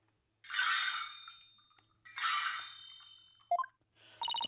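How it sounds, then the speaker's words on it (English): Ankle bells worn by the high priest in the Apollo Justice game jingle in two bright bursts with his footsteps, followed by a few short clinks and a final sharp chime. "Oh, I hear the sound of the high priest's footsteps."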